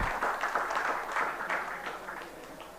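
Applause from the audience at the inauguration of an international computing conference, a steady but moderate patter of clapping across the hall, heard alone without talk.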